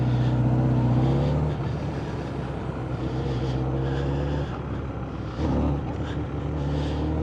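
A Honda CBR1000RR super sports motorcycle with a jumpy throttle drones steadily while being ridden, its engine pitch dipping after a second and surging again briefly near the end.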